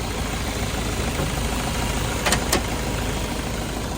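A Toyota Vigo 2.5 G engine idles steadily at close range, a continuous broadband rumble with a faint couple of brief ticks partway through and no talking.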